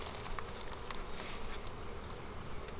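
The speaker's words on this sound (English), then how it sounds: "All the frames are covered in bees." Honey bees buzzing over the frames of an open hive during a beekeeping inspection, a dense steady drone close to the listener, alone and fairly faint.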